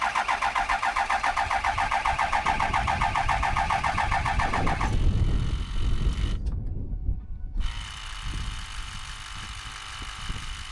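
A 2007 Ford 6.0 Powerstroke diesel cranks with a steady, rapid starter rhythm for about five seconds, then the cranking stops, leaving rough mechanical noise, a brief near-silence and a low, uneven rumble as pressure builds.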